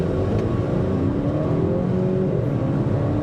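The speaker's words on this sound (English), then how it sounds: "And see how this vehicle accelerates." A 2023 Volvo XC40 B4 front-wheel-drive compact SUV accelerates on the road, its engine a steady, continuous drone with rising tone, heard from inside the cabin with no talking.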